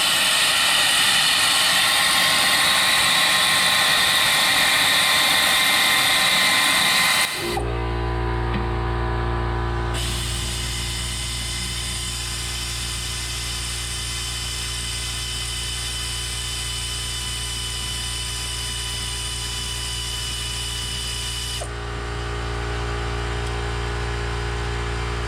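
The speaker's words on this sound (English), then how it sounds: "We're going to take our 14 millimeter socket. We're going to get these slide pin bolts out of here," A power tool with a 14 mm socket spins out the brake caliper slide pin bolts on a 2007-2015 Chevrolet Impala's rear brakes, giving a loud sustained whine that shifts pitch and drops in level partway through.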